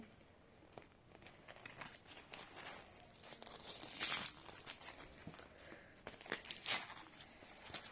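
Paper crinkling and tearing as a small packet is handled and opened, with soft rustles and a few sharper rips, close and fairly quiet.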